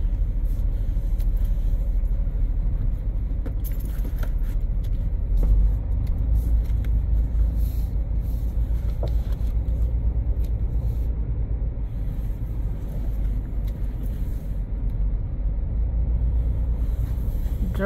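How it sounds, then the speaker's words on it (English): A car drives through city streets with a steady low engine rumble and road noise throughout, heard from inside the cabin with no one talking. "Driving through the streets, y'all."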